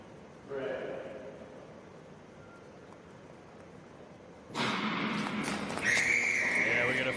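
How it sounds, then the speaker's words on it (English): A referee's whistle signalling a false start in a World Cup speed skating race in Milwaukee rings as a steady high tone near the end, over loud arena crowd noise. "A whistle about 4 or 5 paces from the start line, and they're going to nail Nonomura"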